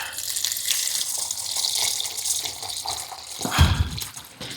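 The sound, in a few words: water poured into bucket for tile mortar mix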